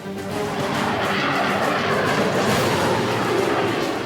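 Rafale fighter jet in flight, a loud, steady broadband engine roar that holds at constant strength throughout.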